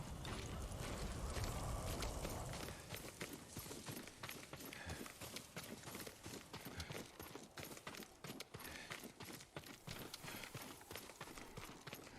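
Rhythmic clip-clop of horse hooves in the video game Ghost of Tsushima Director's Cut, fairly quiet and steady, with a louder rumbling start.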